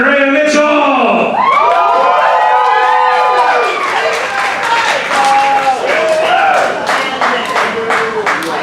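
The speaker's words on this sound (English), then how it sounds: "please give a huge round of applause" A poetry slam audience in Dayton, Ohio bursts into applause, cheering and whoops as a poet returns to the stage, loud and sustained for several seconds, with a host's amplified voice ringing over the crowd at the start.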